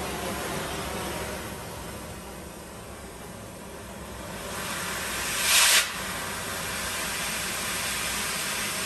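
A gas torch flame hisses steadily and loudly up close while heating the ear of a plastic injected driveline in a shop, a constant broadband roar with a brief sharper flare midway.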